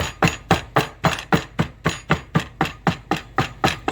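About eight or nine almonds crushed by repeated banging in a kitchen with a dishwasher going: a steady train of fourteen or so sharp knocks about a quarter-second apart, close and loud, with no voices.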